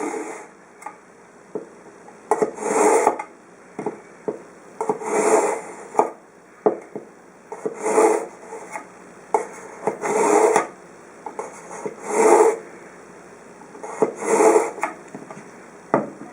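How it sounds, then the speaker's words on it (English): A knife is drawn through a pull-through sharpener in repeated gritty rasping strokes, about seven loud pulls at irregular intervals, with light taps and clicks of handling between them, close and dry. "to sharpen with a pull-through sharpener"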